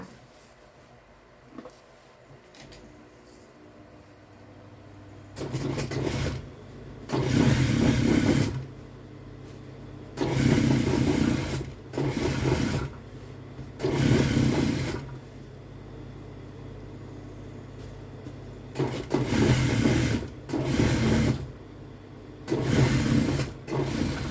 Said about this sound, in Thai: พอเราขีดได้แล้วเราก็มาเย็บขาในก่อนนะ